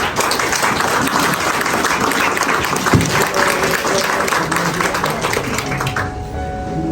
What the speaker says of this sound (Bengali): প্রভুর উদ্দেশ্যে আমরা জোরে আমরা করতালি দিই